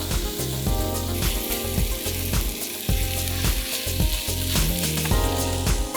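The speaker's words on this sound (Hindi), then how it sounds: "फिर मकई डाल दीजिए आप, और चिकन का कीमा।" Corn and chicken mince fry in a pan with a loud, steady sizzle, broken by rhythmic scraping as the mixture is stirred, close up with no voices.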